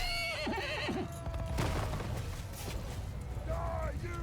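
Horses neigh and whinny amid battle in the video game Mount & Blade II Bannerlord, several rising and falling calls over hoof clatter and a busy clash of combat noise.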